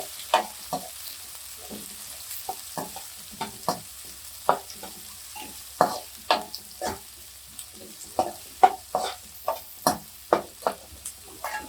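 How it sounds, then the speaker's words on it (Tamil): Two finely chopped onions sauté in a pan for a radish-leaf stir-fry, a faint sizzle underneath as a spatula scrapes and taps the pan in irregular, distinct strokes, with no talking. "2 வெங்காயம் எல்லாம் நல்லா பொடியாக அரிஞ்சு வச்சுருக்கேன். அதை வந்து போட்டுருங்க. இது வந்து நல்லா வதங்கணும்."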